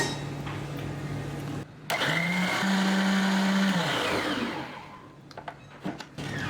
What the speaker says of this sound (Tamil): நான் சர்க்கரை கரையணும் அப்படின்றதுக்காக மிக்ஸி ஜாரில் போட்டு ஒரு அடி அடிக்க போகிறேன்.